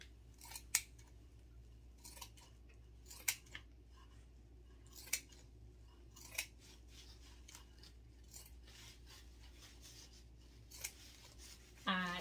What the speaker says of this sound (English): I'm just going to cut a strip to lay right over that.